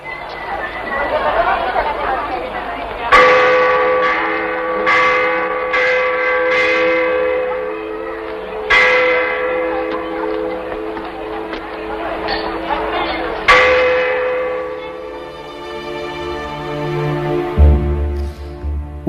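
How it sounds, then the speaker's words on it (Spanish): A large church bell, known as the Bell of Hell, tolls in several heavy strikes about every five seconds, each leaving a long ringing decay over steady crowd chatter. "Y suena esa campana."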